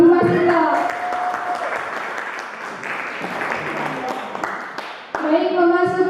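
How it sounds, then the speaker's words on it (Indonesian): Audience at a CV Tani Maju business meeting applauds a presenter, with a steady burst of clapping filling the middle of the moment and a voice speaking at the start and end. "Sebelumnya aplaus dulu dong buat Ibu Masita."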